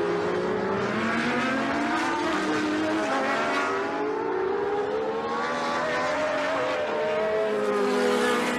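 Early-1980s turbo-era Formula 1 cars racing in a Grand Prix, engines wailing continuously with overlapping rising and falling pitches as cars chase each other, loud and sustained with crowd and track noise beneath.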